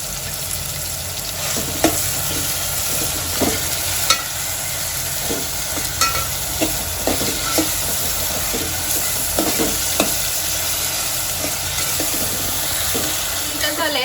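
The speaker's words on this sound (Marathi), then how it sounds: "यांना दोघांना दोन मिनिटापर्यंत चांगलं परतून घेते कांदे गळण्यासाठी लवकर मी जरा मीठ घालून घेते" Onions sautéed with a pinch of salt in a pan for a Goan-style prawn pulao, giving a steady close sizzle broken by regular clinks and scrapes of stirring over about fourteen seconds, with no talk.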